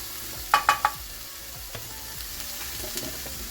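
Ground turkey sizzling and browning in olive oil in a non-stick pan, a steady close frying hiss with a quick burst of three sharp scraping clicks near the start and light stirring taps after, no talk.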